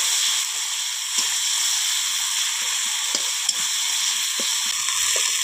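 Whole spices sizzling in hot oil in a pan while they are stirred, for a spice-only fish curry; a steady close hiss with occasional light scrapes and taps of the stirring spoon, no talking.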